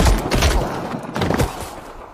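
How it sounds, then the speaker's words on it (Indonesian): Several gunshots fired from a pistol during a tense film scene, loud bursts over a dense noisy background with no clear pauses between them. "mengeluarkan pistolnya dan melepaskan tembakan beberapa kali"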